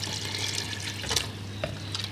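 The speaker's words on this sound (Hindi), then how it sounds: "अब हम इसके अंदर डालेंगे तकरीबन 1 जग पानी का" Water from a jug pours into a pot of biryani base with garlic and tomatoes. A soft, steady splashing trickle with a couple of louder splashes, close and fairly quiet.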